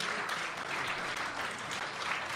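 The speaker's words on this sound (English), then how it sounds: "Keep the applause going" A live crowd at the Contact in the Desert 2018 event keeps clapping in a continuous, even burst of applause with no voices over it.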